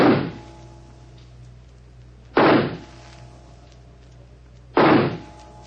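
Three pistol shots fired at a target in a period radio drama, each a sharp loud crack with a short decaying tail, spaced about two and a half seconds apart over a low steady hum, with no voices.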